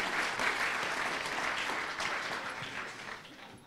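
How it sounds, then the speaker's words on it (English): Steady audience applause fills the room after a panel answer at an anniversary event, dense and sustained, fading slightly toward the end with no one speaking over it. "A round of applause for that answer."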